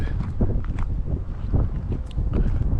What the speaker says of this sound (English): moderately big wind.